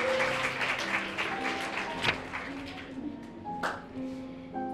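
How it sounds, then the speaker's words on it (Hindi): Audience applause at a Hindi Diwas school celebration in a residential school, scattered clapping with sharp individual claps standing out over a murmur of voices and faint tones. "अरे तालियां तो बजाओ।"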